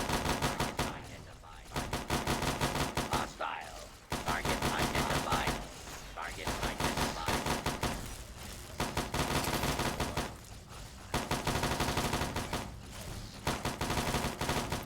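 Sustained gunfire in the video game Fallout Nuclear Sunset: long rapid automatic bursts, loud and dense, broken by brief pauses across the stretch.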